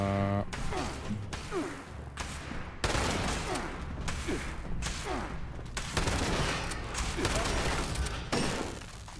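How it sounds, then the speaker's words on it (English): Shotgun fire in the video game Fallout 76, a series of loud sharp blasts at irregular intervals with mechanical clacks between, over busy game sounds. "Shotgun."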